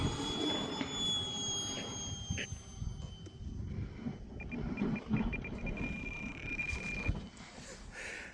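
A Hangar 9 Hawk RC jet on its maiden flight climbs out at full throttle, a steady turbine whine with a rushing airflow roar that rises and fades slightly at a distance.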